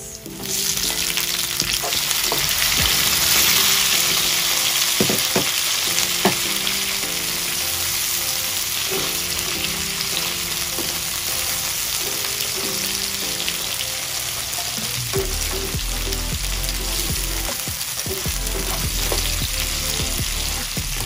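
Garlic and tomatoes fry in a pan, a steady close sizzle that runs the whole length alone, with occasional stirring clicks and pops over a continuous hiss.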